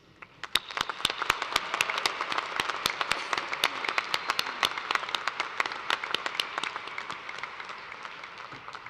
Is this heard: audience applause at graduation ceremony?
yes